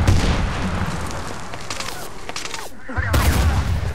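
A frag grenade blast amid bursts of gunfire in the video game Medal of Honor Warfighter multiplayer, loud rattling shots throughout and a heavy boom near the end, with voices briefly over it.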